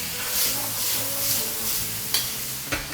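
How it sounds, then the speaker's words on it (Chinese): Onion strips and green and red pepper strips stir-fried over high heat: a steady loud sizzle with scraping stirs throughout and two sharp knocks near the end, with no talking. "洋葱条、青红椒条，大火去炒它。"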